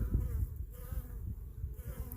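Honeybees hum steadily in front of their hive, a close, continuous low buzz with no voices.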